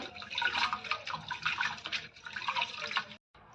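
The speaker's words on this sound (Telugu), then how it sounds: "రైస్లోకి వాటర్ యాడ్ చేసుకొని శుభ్రంగా రెండుసార్లు బాగా వాష్ చేసుకోవాలి" Rice washed by hand in a bowl of water gives soft sloshing and swirling splashes, faint and close, ending in a brief silence.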